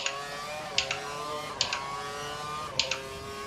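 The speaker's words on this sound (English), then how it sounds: "Running full revs, maximum power." A race car engine held at full revs in a Formula Xbox racing game on the Germany track gives a steady, fairly quiet whining drone with faint periodic clicks every second or so.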